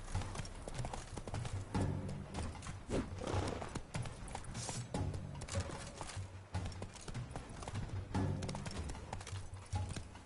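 Roach the horse gallops in The Witcher 3 video game, with rapid, continuous hoofbeats pounding under dense game music and effects, with occasional whinny-like bursts, all at a moderate, even level.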